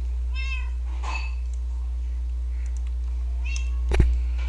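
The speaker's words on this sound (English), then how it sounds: "if you hear that meowing, it's my cats up there on the roof." Video game cats meow a few times in short, thin cries, fairly close, with a soft click near the end and a low steady hum underneath.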